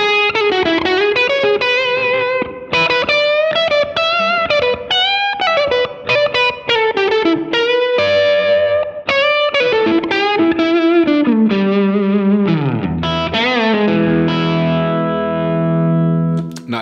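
Electric guitar through an Electronic Audio Experiments Longsword distortion pedal with the mids boosted, playing a continuous, loud, heavily driven riff of chords and single notes that slides down toward the end.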